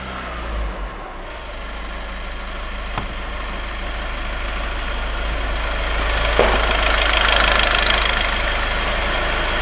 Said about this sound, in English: So I'll now go and allow the vehicle to idle.